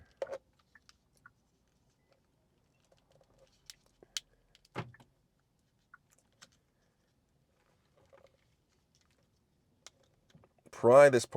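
Small, sparse plastic clicks and snaps as a Kia Sportage key fob's plastic case is pried open by hand, faint and close, with a brief burst of voice near the end.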